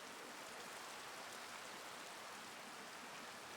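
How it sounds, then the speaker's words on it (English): Soft, steady rain hisses evenly in the distance in the visual novel Tsukihime, a faint continuous patter without other sounds. "I hear the distant sound of rain."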